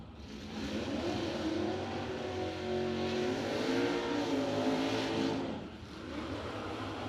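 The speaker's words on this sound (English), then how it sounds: "Greg Clark will drive his hot rod off the racetrack" Hot rod car at a racetrack driving off under its own power, a steady, fairly distant engine drone with wavering pitch that swells slightly and eases near the end.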